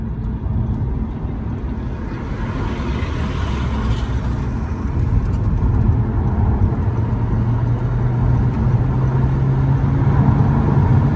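Car running nearby: a steady low engine rumble and road drone that grows slightly louder and holds throughout, with no speech.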